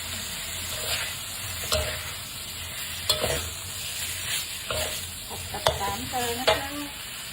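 Minced pork stir-fried in a pan for a Thai dish, giving a steady close sizzle with repeated scraping and stirring strokes, no voices.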